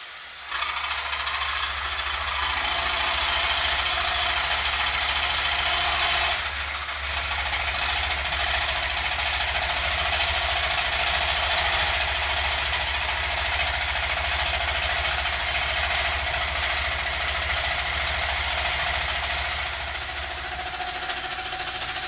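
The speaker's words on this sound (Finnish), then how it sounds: "Ja sitten vaan lähdetään sahaamaan." A power saw cuts steadily through dry material, a loud continuous grinding roar with a brief dip around the seventh second, running alone without talk.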